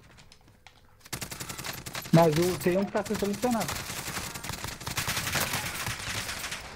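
Rapid bursts of gunfire in Call of Duty: Warzone crackle through the clip while a person talks over them, the shots loud and close.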